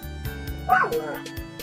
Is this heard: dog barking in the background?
yes